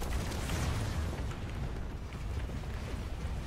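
A loud, rumbling gyro mortar blast in the Robocraft video game rolls out as a dense, sustained boom. It fades a little toward the end, with no voices heard.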